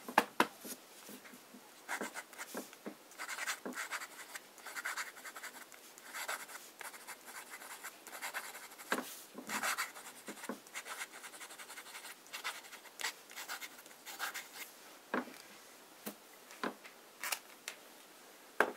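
A fountain pen inked with Montblanc Carlo Collodi scratches steadily across paper in fine writing mode, close and quiet, with irregular small strokes and ticks running continuously and no voices.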